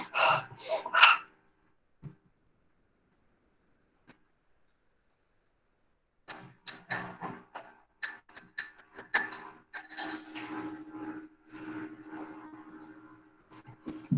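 Breath of fire breathing exercise: rapid rhythmic forceful huffs of breath in a loud burst, then near silence with a couple of faint clicks, followed by a longer stretch of quick repeated breathing pulses, close to the microphone.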